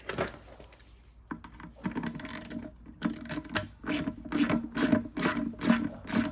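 Ratchet wrench turning a 14 mm drain plug on a Chicago Electric 18 lb vibratory tumbler, giving a run of quick close clicking bursts that grow more regular and louder toward the end, with no talk.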